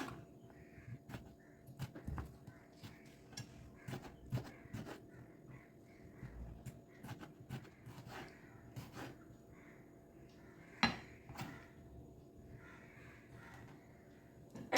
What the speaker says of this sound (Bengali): টমেটোটাকে আমি কুচি কুচি করে নিচ্ছি